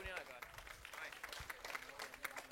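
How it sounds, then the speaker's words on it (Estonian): Spectators at the Robotex 2013 mini-sumo robot finals clap for the third-place robot, scattered uneven applause at moderate distance, with a voice talking over it. "Aplaus!"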